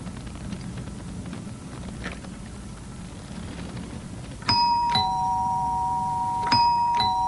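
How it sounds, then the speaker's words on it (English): An electromagnetic doorbell-style bell with chimes, its steel plunger struck by an electromagnet, gives two clear ding-dong strikes midway and near the end, ringing out bright and close over a low background hum. "To make a bell, just add the chimes."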